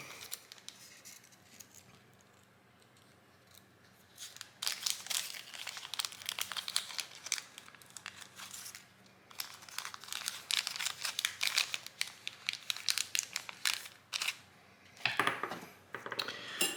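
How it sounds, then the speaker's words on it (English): A plastic bag crinkles and rustles up close as small wires are pulled out of it, quiet at first, then bursts of irregular crumpling, with no talking. "I'm going to go ahead and get out 3 little wires out of our bag."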